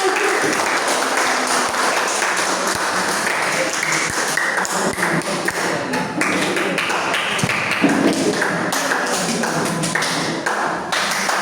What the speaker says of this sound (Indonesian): Sekali lagi tepuk tangan lagi buat temennya yang